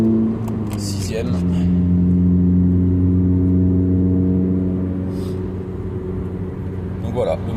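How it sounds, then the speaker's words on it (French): Honda Civic Type R FN2 engine holding a steady drone in sixth gear around 3000 rpm, a loud continuous harmonic hum heard from inside the cabin, with someone talking over it at the start and near the end. "le moteur chante"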